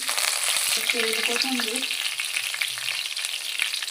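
Cumin, shahjeera and curry leaves sizzling in hot oil, a loud, close, steady frying crackle with a few stirring clinks near the start.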